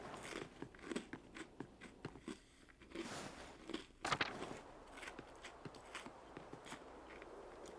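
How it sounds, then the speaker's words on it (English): Crunchy ginger cookies being bitten and chewed close up, giving repeated crisp crunches and crackles in an irregular rhythm over quiet room noise. "I hope the crunching isn't too loud."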